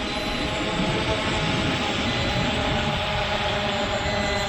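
A Global Drone GD91 Max quadcopter flies close by, its motors giving a loud, steady whirring drone that stays even throughout.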